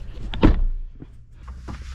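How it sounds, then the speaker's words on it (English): A farm-spec Range Rover's door swings shut with a single solid thud near the start, followed by quieter handling rustles and faint movement sounds. "I'll shut this door, move on to the back."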